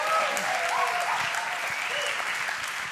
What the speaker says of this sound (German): Can you give Stefan a big hand?